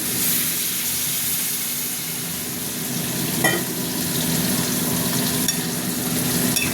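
Water added to a frying turmeric mixture with eggplant, a loud steady hiss and sizzle with occasional stirring scrapes, close and without talk.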